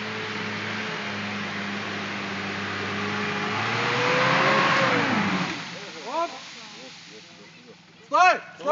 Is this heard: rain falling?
no